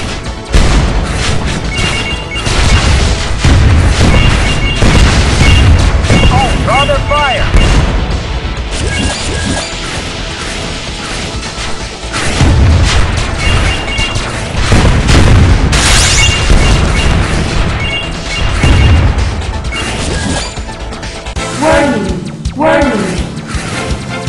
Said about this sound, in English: Erosion missile.